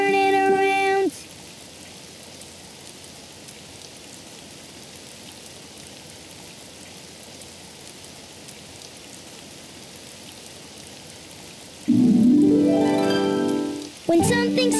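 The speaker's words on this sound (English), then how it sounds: "Oh, it's raining outside." Steady rain falls outside in a Daniel Tiger children's cartoon scene, a soft even hiss throughout, framed by brief bursts of music at the start and near the end.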